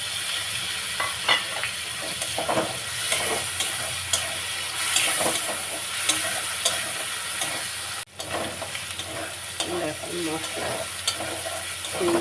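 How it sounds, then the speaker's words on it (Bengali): Shrimp fry in a pan with cumin and chilli, making a continuous loud hiss and sizzle with occasional stirring scrapes. The sound cuts briefly partway through. "এই চিংড়ি মাছগুলো দিয়ে দিলাম এরপরে দিলাম জিরে আর লঙ্কা দিয়ে"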